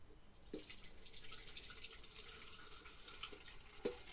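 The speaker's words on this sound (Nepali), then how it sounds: "अब हामी पानी" Water poured into an electric kettle under repair, a soft close trickling and splashing stream with a couple of faint knocks, quiet and without speech.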